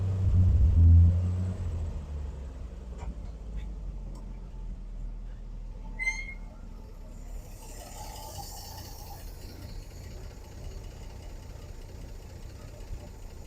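A 1957 Chevy 3100 truck engine, carburetor in need of rebuilding, cranks with a heavy low rumble and then settles into a rough idle, steady and moderately loud with a few rattling clicks along the way.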